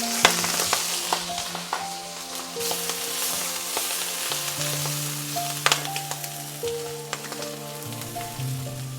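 Collard greens and wood nettles cook down in a pan with a continuous loud sizzle and hiss. Occasional sharp clicks and scrapes of a utensil sound close by, with a low steady hum underneath and no talking.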